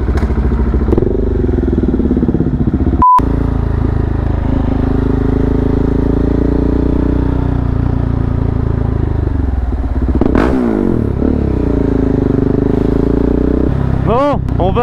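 A motorcycle rides through town streets, its engine droning steadily near and loud with a few revving shifts and clattering bumps, while people talk over it.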